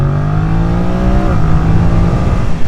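A 2025 Yamaha MT-07 with automatic gearbox in D+ mode accelerates hard and close, its engine note rising smoothly and then dipping as it shifts into the next gear.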